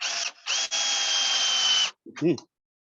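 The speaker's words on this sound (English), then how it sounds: "I hear that drill, Dan." A power drill whines steadily in bursts, a high buzzing motor with a short pause and restart, followed by a brief voice.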